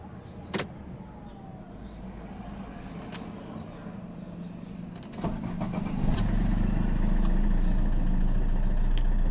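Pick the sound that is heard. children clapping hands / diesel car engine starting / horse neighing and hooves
diesel car engine starting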